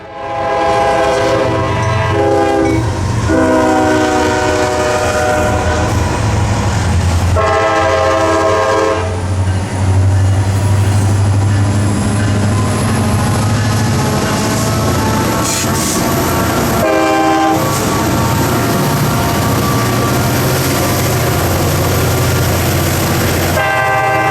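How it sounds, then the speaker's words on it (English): Two freight trains pass at a rail junction with rumbling wheels and wagon clatter. Loud horn blasts repeat over the steady roar, close and sustained throughout. "Once these two trains passed"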